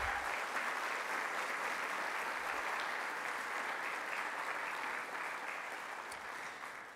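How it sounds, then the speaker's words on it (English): Steady, dense audience applause fills a hall of fame enshrinement dinner for Seton Hall athletics, holding even and full for about seven seconds before easing slightly at the end. "you're going to want applause to this person"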